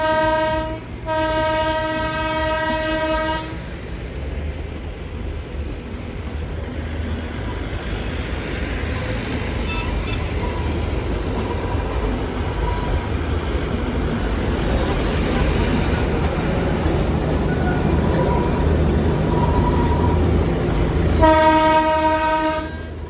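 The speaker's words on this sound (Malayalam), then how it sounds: "കുർസിയോങ് എന്ന ഒരു പട്ടണത്തിലേക്ക് ഇതാ ട്രെയിൻ എത്തുകയാണ്." Darjeeling Himalayan Railway train arriving at Kurseong in a hill town, a horn sounding loudly at the start and again near the end over a steady rumble and rattle of the moving carriages.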